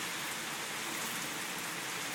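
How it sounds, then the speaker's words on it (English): Steady outdoor rainfall, a dense continuous hiss of drops pattering on surfaces, even and fairly close with no talk. "Can you see the rain coming down?"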